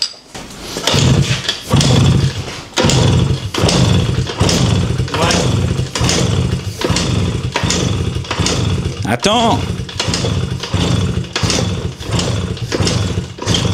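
A small motorbike with a brand-new engine runs loudly with a steady pulsing rhythm throughout, while people talk over it.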